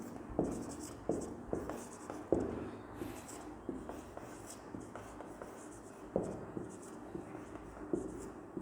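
Pen writing on paper, heard as a quiet scratching with soft repeated strokes and taps at an irregular pace, close and alone.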